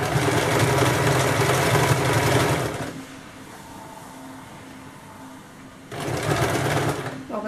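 A sewing machine stitches a kameez, a loud, rapid mechanical whirr for about three seconds, a quieter pause, then another close burst of stitching.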